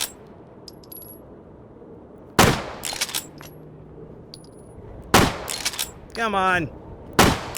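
An 1860 lever-action rifle fired in the H3VR shooting game, three loud sharp shots spaced a couple of seconds apart, with the lever working and metallic clinks between them, and a brief voice speaking once.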